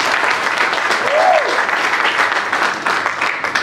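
Voters at a union election meeting in Kintambo applaud a result declared by acclamation, a steady, dense wash of clapping from a crowd, with a brief voice-like tone rising through the middle.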